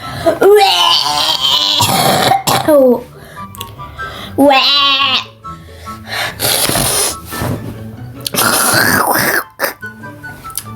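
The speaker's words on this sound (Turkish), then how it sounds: "gerçekten çok öksürüyorum, tıksırıyorum" Several loud, raspy coughs and throat-clearing bursts, close by, interspersed with strained vocal sounds and some laughter.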